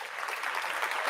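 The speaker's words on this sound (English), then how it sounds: "Hood Rick, I'm gonna give you a round of applause" A short, steady burst of clapping, dense and even, lasting only a moment with no voices.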